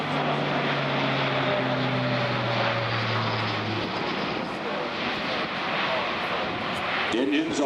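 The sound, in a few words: Airbus aircraft with Europrop engines, propellers in reverse pitch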